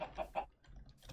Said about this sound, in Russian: О, здорово, утка.